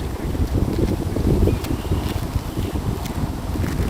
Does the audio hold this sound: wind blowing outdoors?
yes